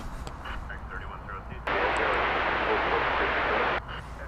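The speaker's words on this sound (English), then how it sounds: "We're about to see the takeoff of Flight 751 UPS to Louisville." A Boeing 767 UPS cargo jet taking off at night at DFW Airport produces a loud, steady broadband engine roar that starts abruptly and holds for about two seconds before easing back, with faint talk before it.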